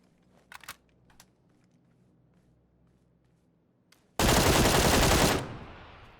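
Automatic gunfire sprays in PUBG: one loud sustained burst of rapid shots lasting about a second, preceded by a few faint scattered clicks and shots at a distance.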